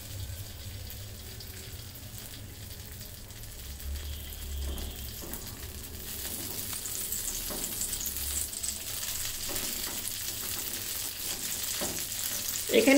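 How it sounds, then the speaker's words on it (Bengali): Raisins fry in oil over medium heat for carrot halwa, giving a steady, soft sizzle with gentle bubbling throughout and a slight swell near the end, with no voices. "হালকা মানে মিডিয়াম আঁচে আপনি এটা ভেজে নেবেন"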